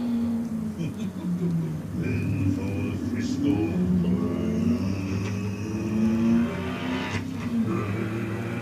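A 4.7-litre, 444-horsepower Maserati V8 engine burbles and rumbles steadily, its low growl rising slightly at times, with a voice talking over it.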